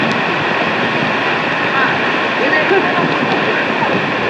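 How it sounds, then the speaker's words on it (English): Waterfall in an Indonesian forest, heard from under a nearby bridge as a loud, steady, broadband rush of falling water that continues without a break. "you can see the waterfall is right there"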